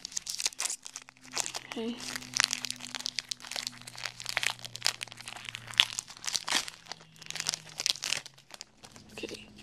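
A Magic: The Gathering Rise of the Eldrazi booster pack is cut open and unwrapped, with bursts of crinkling and tearing foil wrapper close by, mixed with occasional talk.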